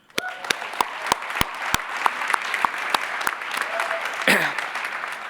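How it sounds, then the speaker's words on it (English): An audience at a plenary session applauds prize winners, with a steady patter of clapping throughout and a few sharp, close claps standing out. "we'll still give you a round of applause"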